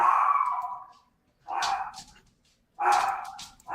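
Dogs barking nearby in a home, three loud bursts of bow-wow barks with short pauses between them, the barks standing alone without talk over them.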